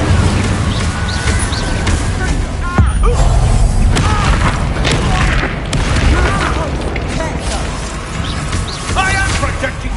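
Spell combat in the Hogwarts Legacy video game, with the Incendio fire spell cast amid a continuous dense mix of booming impacts, crackling blasts and magical whooshes, loud and layered without pause.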